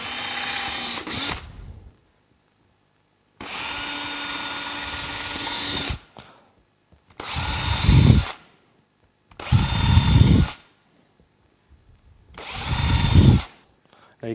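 A power drill whirs in several bursts while drilling out the corners of a plastic snowmobile intake area, each run steady and loud, separated by short pauses, with the pitch dropping as the bit bites.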